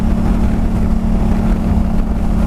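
Motorcycle engine running at cruising speed while the throttle is eased back, a close steady drone buffeted by wind noise, with no talking over it.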